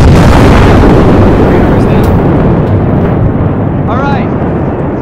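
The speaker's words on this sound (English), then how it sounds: "Detonating radar." A loud, sustained explosion from a charge detonating a radar dish in ArmA III, a dense rumbling roar that fills the whole moment and slowly decays, with a faint voice near the end.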